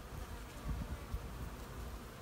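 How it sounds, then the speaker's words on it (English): Bees working the blossoms of a flowering Brazilian pepper plant give a dense, continuous buzz, with several insects close by and more around them. "plenty of bees working the flowers"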